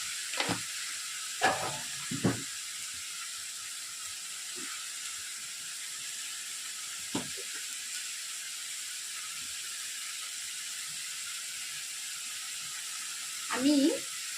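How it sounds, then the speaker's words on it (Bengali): Spice paste with added salt sautéing in a pan for a Bengali doi rui fish curry makes a faint, steady background hiss broken by a few short scrapes and clinks of a spatula, the last one louder near the end. "আর কিছুটা নুন এবারে আমি এর মধ্যে অ্যাড করলাম, করে ভালো করে মশলাটাকে কষিয়ে নিচ্ছি।"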